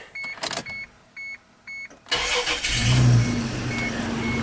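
An Isuzu Rodeo gives a series of electronic warning chimes, then its engine cranks and fires right up, settling into a steady, fairly loud idle.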